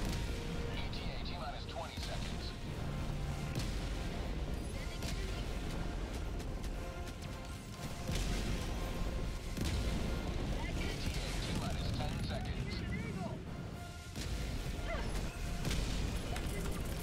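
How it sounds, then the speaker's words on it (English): A 380 artillery barrage in a video game rumbles as repeated heavy explosions over a long stretch, thudding at intervals beneath ongoing chatter from players. "Oh no, a 380 barrage right here"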